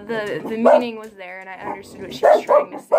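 Pet dogs at home give a few sharp, close barks and whimpering yips near the end, after someone speaks at length over a quieter canine whine.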